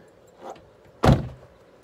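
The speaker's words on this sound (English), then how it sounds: "Shut that door." A car door shut once during car polishing with liquid glass coating, a soft shuffle followed by a single loud close thump that fades quickly, no voices.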